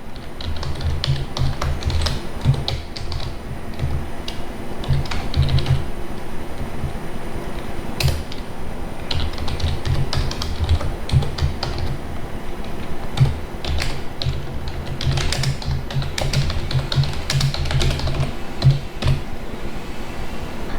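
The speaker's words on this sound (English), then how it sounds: "here we can type our code" Rapid, uneven key taps from code being typed on a computer keyboard, a steady run of close, light clicks with brief pauses, over faint room noise.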